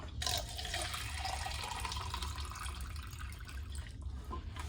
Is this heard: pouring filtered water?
yes